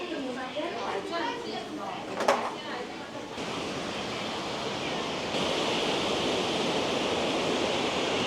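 Baizhangji waterfall in China, a steady broadband roar mixed with gusting wind buffeting the microphone; a brief clatter near the start, then the rush thickens and stays constant.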